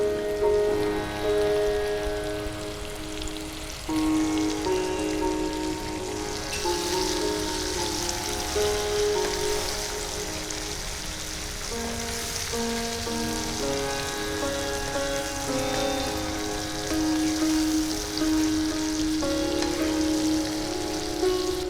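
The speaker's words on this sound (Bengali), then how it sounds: "এবার পেঁয়াজ কুচিগুলো দিয়ে দেব" Chopped onions go into hot oil over lightly fried potatoes with turmeric in an open-air kitchen, and a steady, dense sizzle with crackling, rain-like pops runs throughout at moderate loudness with no talk.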